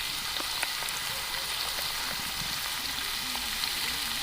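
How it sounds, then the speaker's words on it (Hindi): Chicken frying in a pot with dry coriander powder, chili flakes and green chilies gives a steady, close, dense sizzle and crackle that holds evenly throughout, with no talking. "तकरीबन 2 से 3 मिनट के लिए भुनाई कर लेते हैं"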